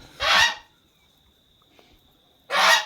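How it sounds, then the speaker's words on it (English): Two loud, harsh goose honks ring out close by, separated by about two seconds of near quiet. "Geese, they're beautiful, but oh my gosh. Needy."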